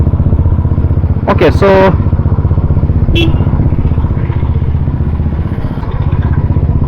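A motorcycle is ridden with its engine droning steadily the whole time and a brief clatter now and then, while a rider speaks a few words close by.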